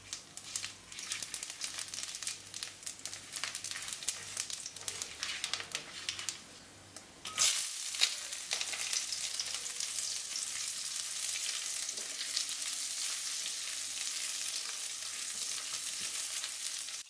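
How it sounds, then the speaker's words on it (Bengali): Sajne danta (drumstick pods) frying in oil with panch phoron and bay leaf for Bengali dudh shukto. A steady, crackling sizzle runs throughout and grows louder and brighter about halfway through, with no talk. "এখন ওই তেলে পাঁচফোড়ন আর তেজপাতা দিয়ে হালকা ভেজে দিয়ে দেব সজনে ডাঁটাগুলোকে।"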